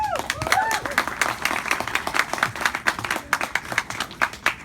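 Audience at a literary reading clapping for a reader, a moderately distant patter of many hands that rises after a brief voice and continues steadily.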